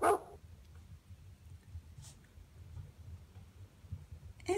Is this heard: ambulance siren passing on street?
no